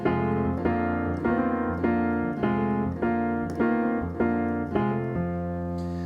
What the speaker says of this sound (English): another really common blues kind of chordal riff you might be used to is something that sounds like this